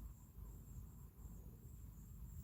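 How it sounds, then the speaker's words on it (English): Faint, steady cricket chirping at night runs through the whole stretch, a thin high trill over low background rumble, distant and continuous with no talking. "there's like a bunch of crickets"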